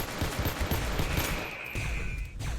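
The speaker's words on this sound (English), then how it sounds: "Captain getting mag dumped" A magazine dump of gunfire in the video game Space Station 14 comes as rapid, closely spaced shots in a sustained burst, with a few more shots at the end.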